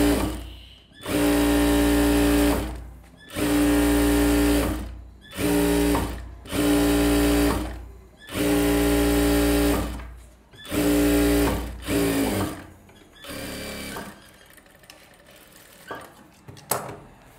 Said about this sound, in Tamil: இப்போ வந்து சும்மா ரஃப்பாக தையல் போடுவோம் இல்லையா